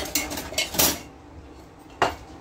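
Dishes washed by hand at a sink give a few close clinks and clatters of plates and cutlery, with a pause before one last sharp knock.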